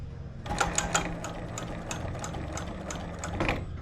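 A sewing machine runs steadily, stitching fabric for a slider keeper with a velcro safety strap, a continuous close mechanical whir with a few small clicks.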